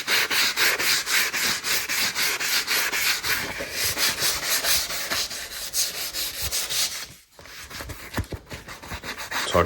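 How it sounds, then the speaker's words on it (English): Wood filler being sanded by hand on a dresser, steady rhythmic rubbing strokes close up, a short pause, then more scraping and rubbing. "You basically just want to keep sanding it until it matches the contour of the original finish."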